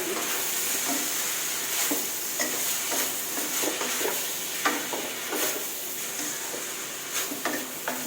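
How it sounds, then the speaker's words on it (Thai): Hokkien noodles are stirred and tossed in a hot pan, a steady sizzle of frying under repeated scraping and clanking strokes of the utensil, moderately loud and close, with no talk. "หลังจากนั้นค่ะคนให้เข้ากัน"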